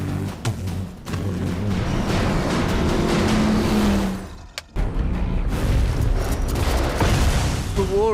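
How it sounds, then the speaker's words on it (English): A Mad Max vehicle powered by two V8 engines from 1959 Cadillac Coupe de Villes, locked together on one shaft, roars loudly up close amid booming bangs, dipping briefly before surging back. "a pair of 1959 Cadillac Coupe de Villes. It's two V8 engines locked together into one shaft."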